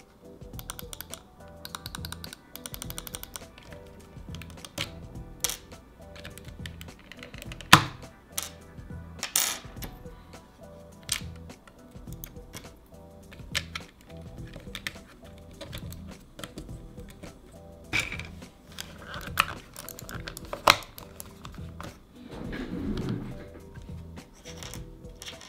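Mouse button clicks on an ASUS ROG Strix Carry wireless mouse fitted with Omron switches, sharp close-up clicks repeating in quick irregular bursts with no talking.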